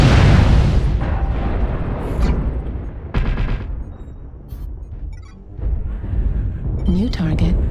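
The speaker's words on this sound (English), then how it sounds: "Artillery strike active." Video game artillery strike explosions boom and rumble in heavy, dense bursts, with one loud blast partway through and further crackling impacts, while a voice speaks over the barrage.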